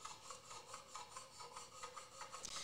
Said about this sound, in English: So if I could set my file on there like this